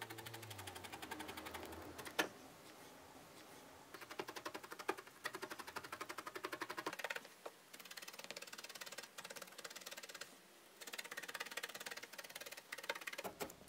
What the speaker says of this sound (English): We'll needle felt that in.